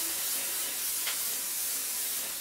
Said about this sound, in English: I am going to take some holding spray.